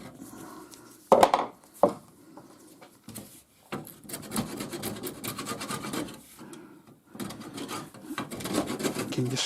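A scraper works loose paint off a lamp post in rasping strokes, close and uneven, with sharp scrapes followed by longer grinding passes and brief pauses between them.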